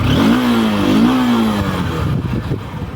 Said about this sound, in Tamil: இப்போ வந்து எக்ஸாஸ்ட் நோட்டை வந்து நோட் பண்ணியிருப்பீங்க